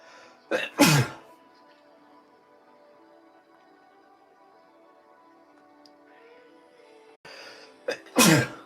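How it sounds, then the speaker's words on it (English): A loud sneeze rings out nearby, followed after several seconds of quiet hum by another forceful sneeze or cough. "I'm sneezing. I'm coughing."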